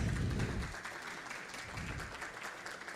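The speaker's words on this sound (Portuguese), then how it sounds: "Uma salva de palmas" An audience at a university forum on higher education in Brazil claps, the applause loudest at the start, then thinning into a softer, scattered patter that carries on to the end.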